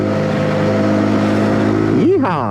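Zontes G125 motorcycle's 125cc engine held near 8,000 RPM at part throttle, a loud continuous buzzing drone that drops briefly then surges back up as the rider shifts near the end.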